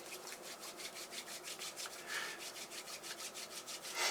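Lox Wild Hunt pomade rubbed into hair by hand, a close, fast, steady back-and-forth rasping rub with about five strokes per second, alone without talking.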